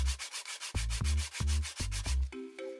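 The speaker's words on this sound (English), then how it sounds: "Place the sandpaper on the handle of the mallet and begin to rub the handle with reciprocating movements left and right." Sandpaper rubbed back and forth along a wooden carver's mallet handle, giving loud, close rasping strokes in a steady reciprocating rhythm of about six passes, alone with no talk.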